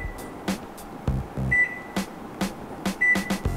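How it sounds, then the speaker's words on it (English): A convection microwave oven beeps as its power button is pressed repeatedly to lower the power level, giving several short, clear tones spaced about a second and a half apart over quiet clicks, with no talking. "if you want to reduce the power level, all you need to do is repeatedly press the same button"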